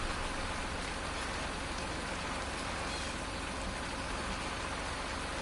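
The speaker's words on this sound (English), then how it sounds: "So it's still raining, everybody." Steady rain in the video game Farming Simulator 19, a dense, even hiss of falling drops that continues unbroken throughout with no talk over it.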